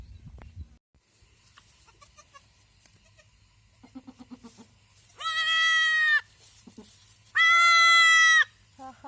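A local goat that has just given birth bleats twice in long, loud, wavering cries, with quieter animal sounds and faint bleats between them.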